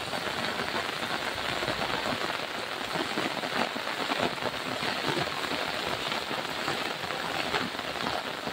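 Steady rain pours down in a botanical garden among orchids, a dense, even hiss of drops on leaves and surfaces, close and continuous with no breaks.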